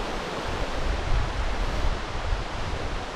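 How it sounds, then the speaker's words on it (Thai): Strong wind blows outdoors along a riverside near an old priory in England, a steady broadband roar with gusty low rumbles buffeting the microphone throughout, no voices. "วันนี้แถวนี้ลมจะแรงมากนะคะ"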